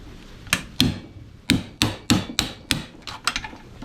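Hammer blows on a screwdriver driving red brass scrap out of a vise, about ten sharp metallic strikes in an uneven rhythm, close and clear with no talk.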